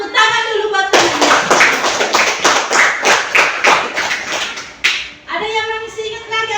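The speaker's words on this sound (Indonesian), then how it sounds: "Tepuk tangan dulu buat temannya." Classroom students clap their hands together in a loud, brisk burst lasting about four seconds, and a voice can be heard just before and after it.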